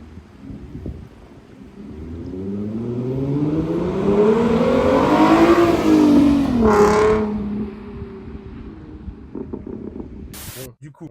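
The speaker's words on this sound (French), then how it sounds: "Il est magnifique ce son, les gars." A Ford Mustang engine revs and accelerates hard from inside the car. The roar climbs in pitch, peaks loudly mid-clip and fades, with wind noise and a brief voice near the end.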